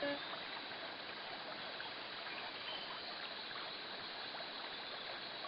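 River flowing through a rainforest in The Magic School Bus video game, a steady rushing wash of water with a bubbly trickle, continuous and fairly quiet with no voices.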